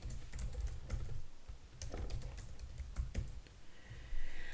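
Someone types a name for a new Twitter list on a computer keyboard, producing quick, uneven bursts of close key clicks with brief pauses between runs.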